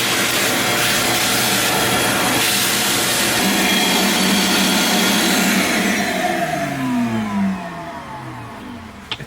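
A Cen-Tec garage vacuum with a 50-foot hose runs as a loud steady broadband roar, then winds down toward the end with falling tones as it stops.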